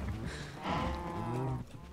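A cow lows in the Minecraft video game, one drawn-out, wavering moo lasting about a second, fairly close and clear over low background noise.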